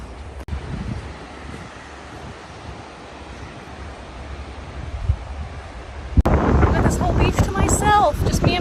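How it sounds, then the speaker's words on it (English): A steady wash of surf rolls onto a wide sandy beach on the Curonian Spit, Lithuania, with wind buffeting the microphone, then a louder gust and a voice break in toward the end. "Sound of the sea."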